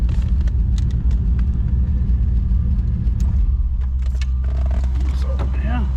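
An old junker car, low on fuel, idles with a steady, deep engine rumble that holds an even tone throughout, with a voice speaking over it.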